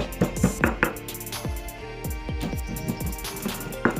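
Spices for grilled catfish seasoning being ground, a steady run of repeated pounding and crushing strikes at an uneven rhythm, close and fairly loud.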